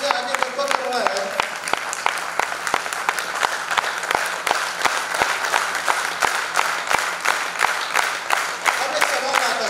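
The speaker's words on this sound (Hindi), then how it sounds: "तब भी ताली नहीं बजाओगे।" An audience at a product seminar claps in sharp, rapid, evenly spaced bursts that carry on steadily from start to finish, filling the room with loud applause.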